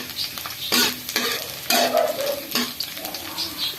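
Onion and garlic sizzle in a hot pan while a utensil scrapes and stirs in short bursts, close and clear with steady frying hiss underneath.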